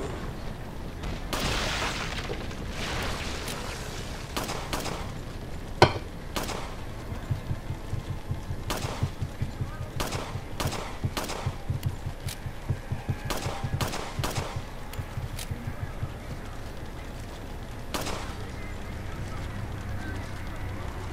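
Sharp pistol shots in Resident Evil 4 on GameCube ring out one at a time at irregular intervals, mixed with in-game grunts and creature noises and a low game ambience.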